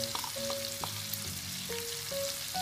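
Shrimp frying in a pan as curry powder beaten with egg is poured in, giving a steady, close sizzle and hiss with a few stirring scrapes over soft tonal background music.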